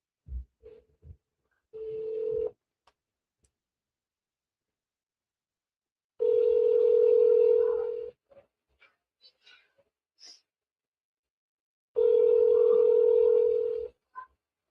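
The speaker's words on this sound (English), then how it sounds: "Let's give this guy a call right now." Telephone call ringing out, with three long, steady ringback tones spaced about four seconds apart and brief faint clicks in the silent gaps between them. No one speaks.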